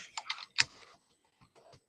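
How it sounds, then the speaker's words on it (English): Loud, close computer keyboard typing: a quick burst of clacking keystrokes, then a pause and a few softer taps. "I realized that my typing here is really loud."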